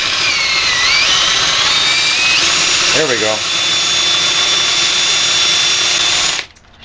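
A power drill whines loudly and steadily while spinning a pipe, its pitch shifting slightly as it spins, with a brief spoken remark over it before the motor cuts off.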